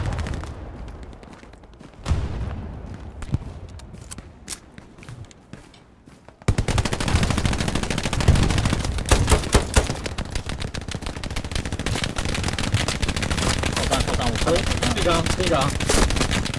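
Gunfire from the World War II shooter Hell Let Loose: scattered single shots at first, then dense, loud automatic bursts and rattling fusillades that continue without pause, with a voice speaking over the shooting.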